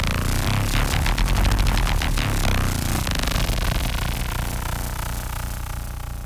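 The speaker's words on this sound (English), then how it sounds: "this is probably a serum patch" A harmonically distorted Serum synth patch plays alone, loud and gritty, with rapid buzzing pulses that sweep and shift before settling into a sustained, dense drone.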